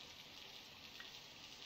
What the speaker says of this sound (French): Il pleut toujours.